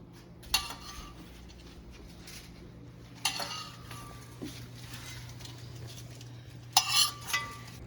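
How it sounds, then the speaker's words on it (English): Utensils clink against a plate in three short bursts as salad is tossed onto it, with quieter scraping and tapping between them over a low kitchen hum. "Throwing it into the plate."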